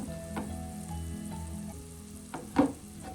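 Green chillies and curry leaves fry in oil for a ribbon fish chilli curry, a steady close sizzle with occasional sharper spits and one louder pop near the end, without any talking.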